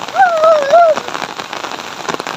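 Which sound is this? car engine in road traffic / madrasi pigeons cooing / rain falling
rain falling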